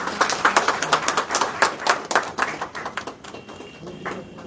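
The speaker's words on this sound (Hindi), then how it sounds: "तालियों से स्वागत" An audience at the grand opening of a Kota textile association office claps to welcome the Kota president onto the stage, a dense patter of hand claps that stays fairly close and steady before thinning out.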